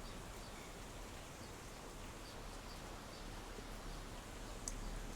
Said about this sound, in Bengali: আজকেও আবার এরকম ট্যাপট্যাপানি বৃষ্টি।